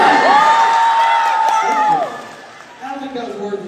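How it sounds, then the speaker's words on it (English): A loud crowd at a live show in San Antonio, Texas, cheers and whoops with a sustained high shriek over scattered applause, then dies down as a nearby voice starts talking. "I don't think that was worthy of that much of an applause."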